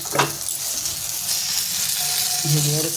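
Eggplant slices frying in oil in a pan, giving a steady sizzle throughout with a brief clatter near the start and a short louder burst near the end.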